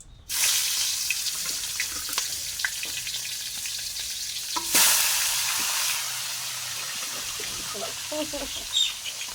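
Food frying in hot oil as rainwater drips in, a steady loud sizzle with bursts of sharper crackling and spitting, plus occasional stirring and clatter.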